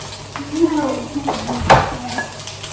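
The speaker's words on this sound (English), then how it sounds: "my friend is stir frying the rice with the vegetable and oil" Rice and vegetables stir-fried in a pan, with a soft sizzle and the scrape and clatter of a utensil against the pan, voices faint in the background.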